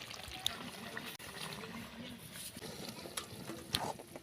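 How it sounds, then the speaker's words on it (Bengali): A spoon stirring soybean curry in a pan after ground garam masala goes in, soft scraping and gentle bubbling with light sizzle and occasional clinks, close and quiet, with a voice talking over it. "এবার দিয়ে দেবো বেটে রাখা গরম মশলা, দিয়ে মিশিয়ে নেব"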